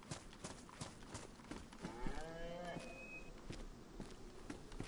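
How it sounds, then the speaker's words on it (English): A cow moos in the video game DayZ, one drawn-out low call lasting about a second amid steady game ambience with footsteps and faint background voices. "Sounds like he just killed a cow."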